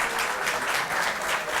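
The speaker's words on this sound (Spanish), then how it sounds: "Agradecemos a los relatores por esta excelente presentación, con un aplauso" An auditorium audience applauds the presenters at the close of a talk, a dense, even patter of many hands clapping at steady volume.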